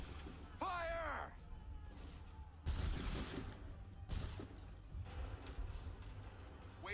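Musket volleys crack out in an Assassin's Creed 3 battle. A commanding voice shouts first, then two sharp, loud volley bursts follow a second or so apart over a rumbling battlefield background.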